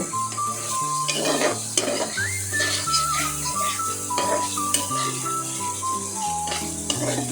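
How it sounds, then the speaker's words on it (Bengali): Large peeled shrimp are sautéed in a pan, a constant close sizzle with bursts of stirring and scraping from the spatula, all under steady background music. "আমি চিংড়িটাকে ভালো করে কষিয়ে নিব।"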